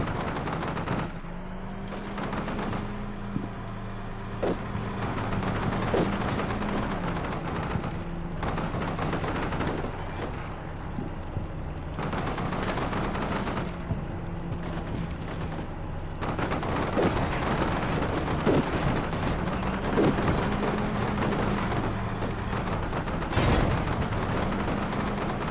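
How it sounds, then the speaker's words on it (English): Gunfire in the tactical war game Combat Mission Shock Force 2, with bursts of automatic fire and single shots crackling over a steady engine drone, some sharp reports close by and others more distant across the battlefield. "Definitely an enemy unit over there also firing at us, although the distance is pretty significant."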